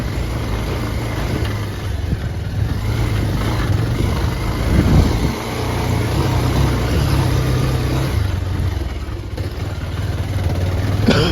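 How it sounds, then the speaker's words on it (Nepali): A Hero off-road motorcycle engine, a steady low rumbling drone that rises and dips as the throttle changes, loud and close under rushing wind noise, with no talking. "अफ रोडको हिरो बाइक"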